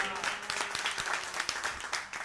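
Applause for a musician on a studio music show: a short burst of lively clapping from a small audience, close and uneven, with a voice talking over it.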